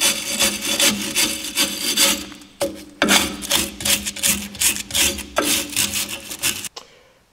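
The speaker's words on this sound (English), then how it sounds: "take a wire brush and just clean it up" Wire brush scrubbing rear drum brake parts on a car, with rhythmic back-and-forth rasping strokes, loud and close, with brief pauses between bursts.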